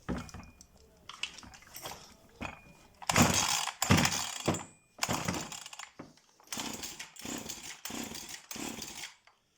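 A Husqvarna 353 chainsaw with a newly replaced fuel line is run during carburetor adjustment, revving in a series of sharp loud bursts separated by short quiet gaps.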